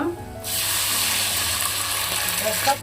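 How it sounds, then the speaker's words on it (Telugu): Steady broadband rush of water pouring into a pot, starting abruptly after a brief quiet moment and continuing at an even level with faint clinks. "నీళ్ళు వేస్తా ఉన్నాను."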